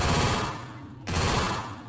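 Automatic gunfire in the Garena Free Fire battle game rattles loudly and continuously, breaks off briefly at the midpoint, then resumes as a dense burst.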